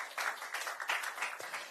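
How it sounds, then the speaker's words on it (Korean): An audience applauds at a Korean election campaign rally, steady dense clapping from a crowd heard at moderate distance, filling the moment without any speech over it. "윤영덕 공동대표님께 큰 박수 부탁드리겠습니다"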